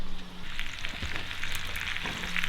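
Bacon and eggs sizzle steadily in a pan over a campfire at a bushcraft camp, a close, continuous frying hiss with small crackles and pops throughout.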